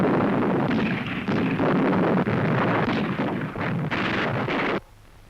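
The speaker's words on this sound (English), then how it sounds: "Pakistan launched a surprise airstrike on Indian airfields in the Western Command area" Explosions of a surprise airstrike on airfields in a 1971 war setting, heard as a continuous loud rumbling roar with repeated heavy blasts and bursts that cut off abruptly near the end.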